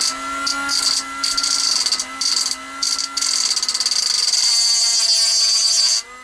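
A high-pitched rotary tool whines steadily as it grinds glass on a die-cast model car, its pitch dipping briefly several times as it bites, loud and close.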